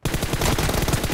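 Rapid automatic gunfire in a 1v1 mobile shooter game on an iPhone X: a dense, loud, continuous burst of shots lasting about a second, with no talking.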